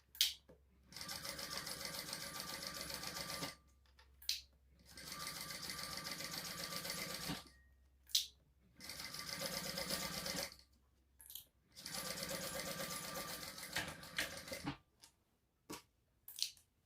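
A sewing machine stitches a Sedona crossbody bag in four long, even runs of rapid mechanical whirring, separated by short pauses and small clicks, close up and without talk.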